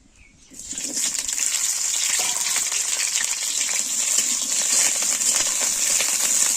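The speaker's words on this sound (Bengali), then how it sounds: "প্রথমে ফুলকপিটা ভেজে নিই।" Cauliflower goes into hot oil for a winter khichuri, and after a brief quiet start a loud, steady bubbling sizzle takes over and holds.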